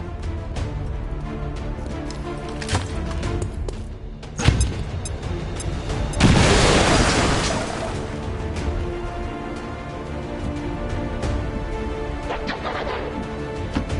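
Bombs go off in the strategy game XCOM 2: War of the Chosen. A sharp hit is followed by a loud, rumbling blast that fades over a couple of seconds amid busy game sounds.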